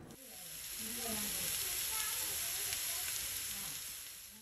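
Sliced onions and green chillies frying in a pan for a Kerala-style fish curry, a steady, close hissing sizzle that swells in and holds throughout, fairly quiet overall.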